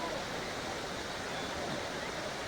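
River water at Doodhpathri, Kashmir, in the Valley of Milk, rushes in a steady, dense broadband roar, continuous and close, with no distinct breaks.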